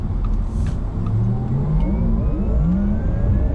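Synthetic drive sound of a 2020 Porsche Taycan 4S electric car played through its cabin speakers under acceleration, a loud whirring hum whose pitch sweeps steadily upward for several seconds, heard alone without speech.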